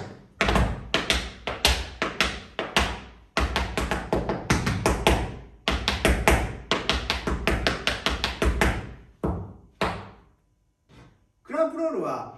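Tap dance cramp rolls, quick runs of ball and heel taps on a hard floor in bursts of rapid rhythmic clicks, close and crisp, with short pauses between phrases.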